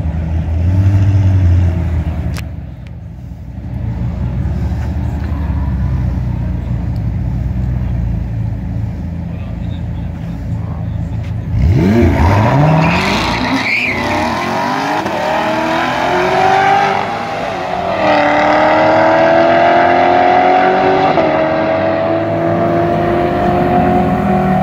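Stock C7 Corvette Z06 with an automatic and a McLaren 720S drag racing: loud engine roar that builds into hard acceleration with rising revs midway, sustained and close, with some talk mixed in.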